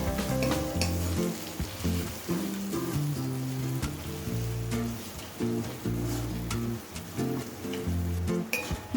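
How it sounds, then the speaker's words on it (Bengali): Spices and ingredients sauté in a hot pan for a Bengali fish-head dal, giving a continuous close sizzle with stirring and scraping and occasional light clinks, without talk. "এবার মশলার সাথে আরেকবার ভালোভাবে সমস্ত উপকরণ কষে নেব"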